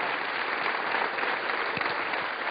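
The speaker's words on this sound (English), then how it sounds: "Another round of applause for Josie" Studio audience applauding a participant on a televised Derren Brown show, even dense clapping throughout at a moderate level.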